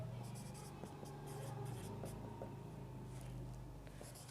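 A pen scratches across paper in short, quick strokes, writing by hand in a steady scribbling rhythm close by, with a faint hum underneath.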